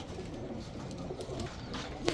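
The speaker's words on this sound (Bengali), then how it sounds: "এখন দেখাবো কালদম, ইন্ডিয়ান কালদম, মাত্র 1 দশকের কবুতর" Indian Kaldom pigeons, a mated pair, coo softly and continuously at close range, a low murmuring warble with a brief sharper note near the end and no talking over it.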